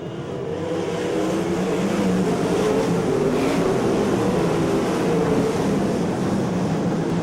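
Race cars accelerate together on a restart at Ocean Speedway, a loud continuous roar of many engines rising as the field closes up and builds speed out of turn four.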